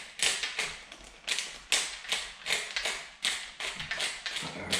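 Black pepper ground in a hand pepper mill, close up: a steady run of crunchy, rasping bursts, one for each turn, in an even rhythm with no talking.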